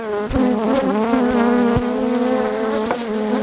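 Loud, close buzzing of honeybees crawling on the microphone, steady insect drone with wingbeat harmonics, as if insects are hovering right against it.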